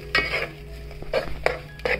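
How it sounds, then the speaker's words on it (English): Masala sautéing in oil in a pan for Hyderabadi mirchi ka salan, heard as a few short, close scraping stirs over a low sizzle, with brief clinks between strokes and no voices. "We are just going to saute this for some time till the oil leaves the masala."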